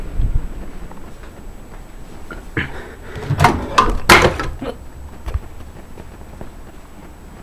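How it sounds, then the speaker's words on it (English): A few clattering knocks and a thump of a microwave door being opened, with burgers falling out, bumping and rattling, fairly close, no talking. "I just opened the microwave door and the thing fell out"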